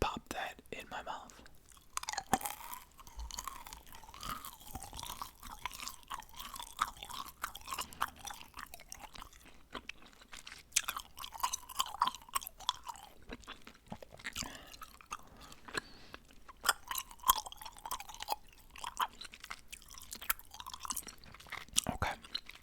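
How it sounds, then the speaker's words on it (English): Gum chewing close to a microphone in a whispery ASMR setting, with soft wet smacks and crunchy chews repeating steadily throughout, mixed under quiet intermittent talking. "I'm going to take a piece of gum and pop that in my mouth."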